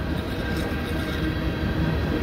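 A CN or CPKC freight train rolls past at night as a steady, heavy low rumble with constant grinding wheel noise. It sounds close and continuous, with no voices.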